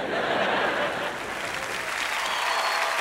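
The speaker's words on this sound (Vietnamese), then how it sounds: "Vỗ tay đi mấy em." Audience applause during the final of a televised Vietnamese vọng cổ singing competition, a thick, continuous wash of clapping that holds steady throughout.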